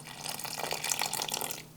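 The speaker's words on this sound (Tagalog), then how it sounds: "Nagbuhos lang ako ng tubig dito." Water poured into a bowl of batter made with cornstarch, garlic powder, pepper, salt and yellow food color for Filipino crispy cabbage strips; a close, steady splashing trickle lasting under two seconds.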